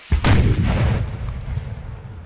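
A single loud cannon shot booms from an artillery piece in a Napoleonic Wars game, with a sharp blast followed by a rumbling tail that fades out.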